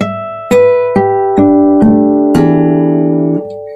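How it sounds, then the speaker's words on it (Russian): A series of clear, bell-like guitar harmonics ringing out one after another, each chiming note sustaining and overlapping, the last ones blending into a shimmering chord. "пройтись и сыграть флажолеты"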